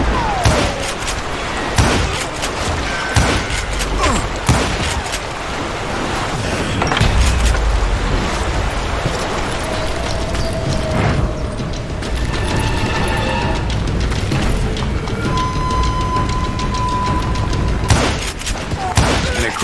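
Gunfire in a shootout from the Call of Juárez video game: loud, close, irregular bursts of shots and booming reports over a dense rumbling background, with scattered mechanical clicks and brief tonal sounds.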